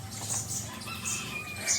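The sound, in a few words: chickens clucking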